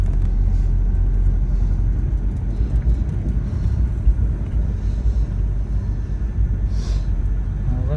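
A 1966 Renault 16 with a cold engine runs steadily while driving, a loud continuous low rumble and drone with road noise and no talking.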